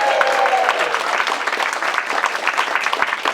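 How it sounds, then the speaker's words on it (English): A rally crowd for Jeremy Corbyn claps and cheers loudly and continuously, dense applause filling the space with a few shouts mixed in. "Everybody, come on, have a cheer for him."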